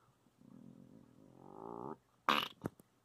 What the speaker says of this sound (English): You just farted.